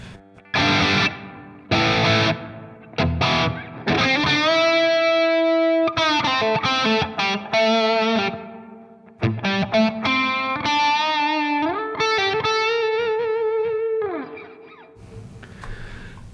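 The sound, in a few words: guitar through Fractal London plate reverb effect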